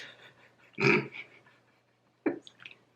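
A nearby dog gives a short low growl, followed by a quieter huffing breath and a brief second growl, with no speech.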